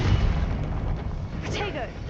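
A Confringo fire spell bursts in a Harry Potter video game, a sustained dense booming roar with crackling over about two seconds, with a voice present alongside it.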